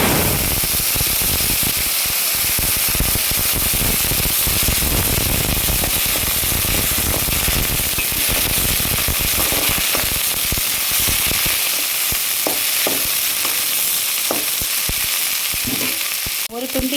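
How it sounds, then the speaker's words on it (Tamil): Loud, steady sizzling and crackling of cumin seeds, curry leaves and chopped onions frying in hot oil, with sharp pops scattered throughout. "சின்ன சீரகம் போட்டு தாளிச்சுக்கோங்க அப்புறம் கருவேப்பிலை ரெண்டு நறு நறுக்கிய வெங்காயம்"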